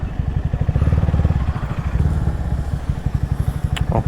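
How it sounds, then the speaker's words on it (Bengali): A motorcycle ridden in to park at a bikers' camping fest in Cumilla, its engine putting out a close, loud, rapid throbbing idle-like beat that pulses steadily throughout, then eases slightly near the end. "এখন পার্কিং করব বাইকগুলা, বাইকটা পার্কিং করতে হবে"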